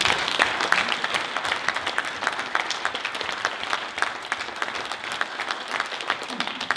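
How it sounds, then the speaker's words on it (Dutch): An audience in Almelo, Netherlands, gives sustained applause, dense rapid clapping from a crowd lasting several seconds. "Nogmaals een applaus."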